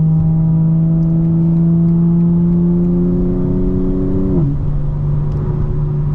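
A 2025 BMW M4 Competition xDrive engine runs steadily with its exhaust valves open, a loud, continuous harmonic drone with the pitch holding, then dropping sharply near the end before settling at a lower steady tone.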